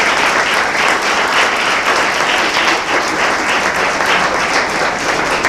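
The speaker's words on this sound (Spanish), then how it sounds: "Denle palmas al Señor." A church congregation applauds during a Spanish-language sermon, a dense, steady roar of many hands clapping at once that fills the space loudly and evenly from start to finish without letting up.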